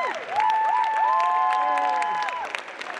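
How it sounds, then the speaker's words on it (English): An audience at the Sing your Heart Out Norfolk competition finals cheers and applauds the finalists, with steady clapping under rising whoops and whistling voices, lively and close throughout. "As they go, ladies and gentlemen, give them a big cheer."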